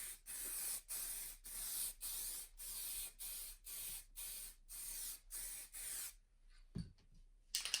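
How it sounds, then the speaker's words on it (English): Spray paint from a can hisses onto miniature terrain baseplate tiles in repeated short bursts, about ten evenly spaced close blasts, followed by a quiet pause and a few light handling knocks. "So I'm spraying from a different angle again, this time a 45 degree from here."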